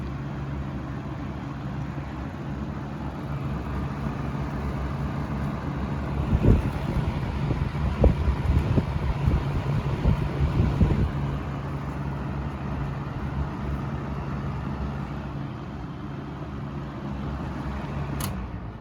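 A Wells Royal S-122 electric fan runs on its low setting, giving a steady airy whoosh with a low motor hum. The sound is close and continuous, with a brief rougher rumble partway through and no talking.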